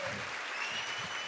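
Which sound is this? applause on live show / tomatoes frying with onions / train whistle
applause on live show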